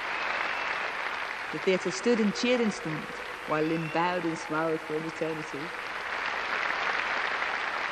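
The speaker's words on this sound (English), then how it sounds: "The applause grew deafening" A theatre audience applauding loudly and steadily, swelling into a standing ovation with cheers, while someone narrates over the continuous clapping.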